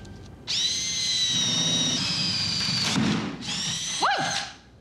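A power drill boring holes for pendant light boxes in a ceiling eyebrow during a pool bar renovation, a loud whining motor that runs steadily, stops, then restarts in short bursts with a thunk.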